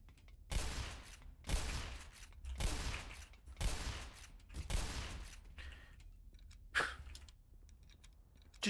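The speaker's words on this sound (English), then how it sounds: "Just shooting around her like a goddamn cartoon. This Looney Tunes ass gun." Video game gun firing in a Quake-like level with elevators and stairs, about six loud bursts at a steady one-per-second rhythm, each a sharp crackling blast with a short tail, then a quieter final shot.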